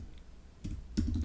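Typing on a computer keyboard, a couple of quiet clustered key clicks close by after a near-silent start.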